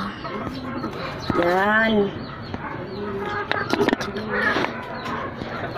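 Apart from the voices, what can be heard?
Hen and cock chickens clucking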